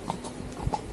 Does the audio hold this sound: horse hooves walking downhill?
yes